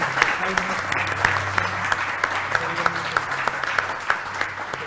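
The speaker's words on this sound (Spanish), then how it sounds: "Les pido un aplauso para Paige, para Andy" An audience at a presentation on the Tapestry project of Chile's Coordinador Eléctrico Nacional applauds, steady crowd clapping with some sharper individual claps standing out, while a voice speaks briefly underneath.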